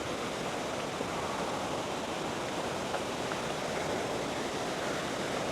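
Continuous rushing water of Mae Wa Waterfall in Lampang, Thailand, beside large rocks, fills the scene, a steady broadband roar, unbroken and even.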